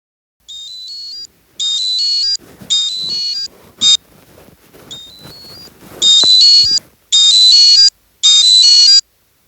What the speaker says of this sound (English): it plays a beeping sound that can help you locate it